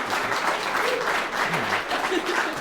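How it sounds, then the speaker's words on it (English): Wedding guests give the couple a round of applause after the quaich toast, a full, even burst of clapping sustained throughout, with faint voices mixed in. "a round of applause"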